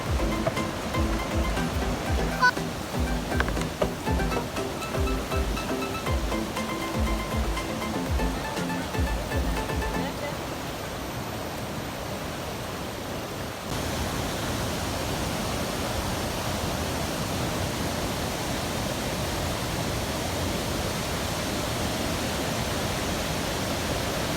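Steady broadband rush of the Tad Yueang waterfall at Pakxong, Laos, heard close and loud, a continuous roar of falling water that holds level throughout with no voices.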